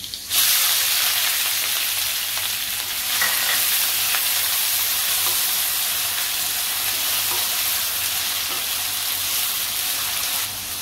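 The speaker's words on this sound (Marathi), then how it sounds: "फोडणी तडतडली का आपण कांदा घालायचा आहे." Onion hits hot oil already tempered with cloves and cinnamon, with a sudden loud sizzle that settles into a steady, crackling hiss of frying, close up and continuous.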